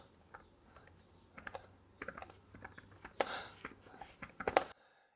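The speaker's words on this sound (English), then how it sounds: "I am really happy typing away on this keyboard using it." Typing on a Surface Pro 11 type cover keyboard, a close run of quick, light key clicks in uneven bursts, growing busier toward the end before stopping abruptly.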